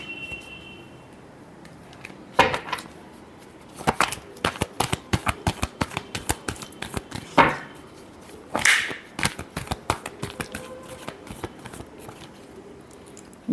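A deck of tarot cards is shuffled close up: a long run of quick riffling slaps and flicks in uneven bursts, crisp and fairly loud, with faint background noise.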